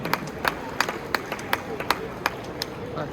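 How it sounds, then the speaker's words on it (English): Scattered, uneven claps from an audience at a Malaysian food and drinks trade show after a cultural dance performance on stage, about ten distinct hand claps over a murmuring crowd background. "Can you please give them a round of applause,"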